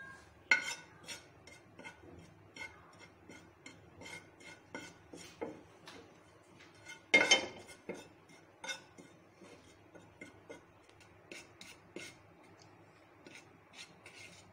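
Ground cumin and other spice powders are toasted lightly in a pan for Kashmiri seekh kebabs, heard as soft scraping and clinking of a spoon against the metal pan, with one louder clatter midway and no talking.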